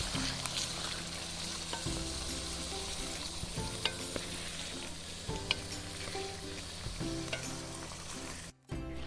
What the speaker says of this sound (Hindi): चिकन इसमें ऐड करके हमने इसको चिकन को फ्राई करना है